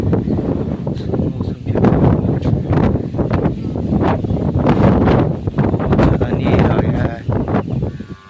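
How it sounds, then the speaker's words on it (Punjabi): Strong wind blows outdoors during a rainstorm, roaring and buffeting close against the microphone in continuous gusts that swell and ease over several seconds. "ਮੀਂਹ ਵੀ ਬਹੁਤ ਤੇਜ਼ ਕਿਦਾਂ ਹਵਾ ਤੁਸੀਂ ਇੱਥੋਂ ਚੈੱਕ ਕਰ ਸਕਦੇ ਹੋਗੇ ਕਿੰਨੀ ਹਵਾ ਚੱਲਣ ਲੱਗ ਪਈ"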